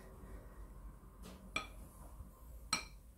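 A utensil stirs baking powder into flour in a bowl, with two faint, bright clinks against the bowl about a second apart over a quiet background.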